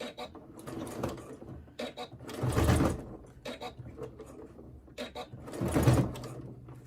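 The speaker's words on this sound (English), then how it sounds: "I'm just going to stitch around it." A sewing machine stitches around the edge of a crossbody bag in a few short bursts and two longer runs, close and moderate in level, with no talking.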